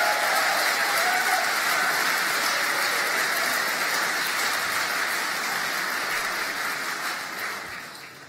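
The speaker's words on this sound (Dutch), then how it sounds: "ik zal dat doorgeven als een applaus voor zijn cabaretkunst" A party congress audience applauds loudly and steadily for several seconds in a big hall, with dense, continuous clapping that thins out near the end.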